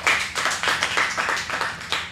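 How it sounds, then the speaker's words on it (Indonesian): A small audience on a podcast-style show claps for a boxer with quick, distinct hand claps close to the mic. The clapping comes in uneven bursts that taper off. "Keren, tepuk tangan untuk Daud."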